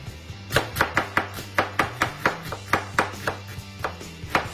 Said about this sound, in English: And go ahead and chop it in half.